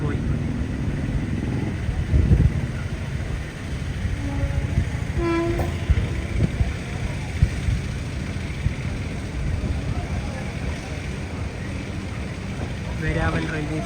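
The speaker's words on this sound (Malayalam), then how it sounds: "ഇനി ഈ ട്രെയിൻ കടന്നു പോകുന്നത് ജുനാഗഡ്, രാജ്കോട്ട്, ഹാപ്പ, ജാംനഗർ, ദ്വാരക വഴിയാണ്." A passenger train pulls out of Veraval railway station in Gujarat, with a continuous rumble and clatter of wheels, a brief horn-like tone, and a person talking over the noise.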